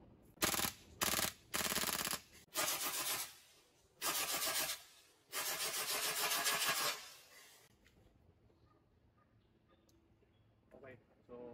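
WE M4 RIS airsoft gas blowback rifle firing, starting with a few short bursts and then longer full-auto strings of rapid loud clattering, followed by quieter handling clicks.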